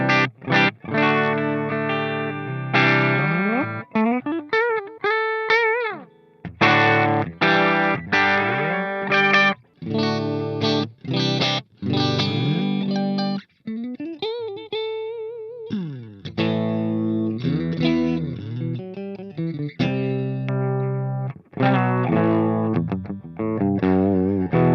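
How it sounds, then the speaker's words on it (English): Electric guitar played through a Line 6 Helix LT modeling a clean Fender Tweed amp, warm chords and single-note phrases ringing out with sustain and short pauses, loud and close with no talking. "you can get yourself a Fender Tweed amp and just make it a crystal clean"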